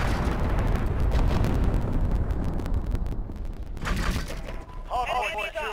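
Cruise missile blasts in a military video game roll out as a dense, rumbling barrage of explosions and crackling debris, loud and continuous, with game radio chatter mixed in.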